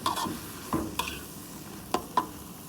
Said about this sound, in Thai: ผัดเต้าเจี้ยวค่ะ